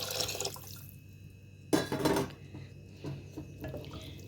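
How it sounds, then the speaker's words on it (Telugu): Water pours into an ordinary cooking pot for tomato rice in a short splashing gush, followed by a few quieter drips and light knocks against the vessel. "ఇప్పుడు ఇందులోకి 1 గ్లాస్కి 2 గ్లాసెస్ వాటర్ పోసుకోవాలి"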